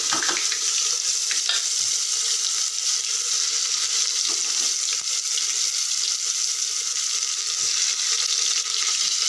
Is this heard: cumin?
yes